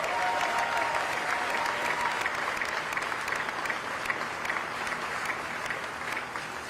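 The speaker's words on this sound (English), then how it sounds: "Let's give all these workers one big round of applause one more time." A crowd at a car assembly plant applauds factory workers, a broad, even roar of clapping that carries on steadily for several seconds without letting up.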